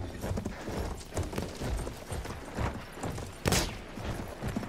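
Horse hooves galloping in the Battlefield 1 video game, a busy, continuous run of clip-clop beats layered with dense game noise and a brief sharp burst near the end, with no speech.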